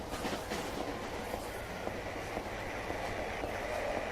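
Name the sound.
subway train car travelling, from the video game Silent Hill 3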